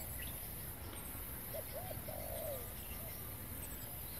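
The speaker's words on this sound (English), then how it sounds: "We've just got birds everywhere around me." Pigeons or doves coo softly in a short burst of low notes at a lakeside wildlife spot, distant and faint against a steady outdoor background hiss.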